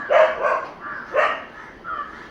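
Several dogs bark in short bursts, two strong yelping barks followed by softer ones at moderate distance, with no talk over them.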